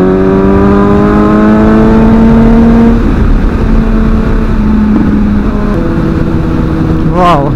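A Suzuki GSX-S 750 motorcycle accelerates hard on an open public road. The loud, close engine note rises in pitch, shifts gear, and keeps climbing, with rushing wind noise throughout.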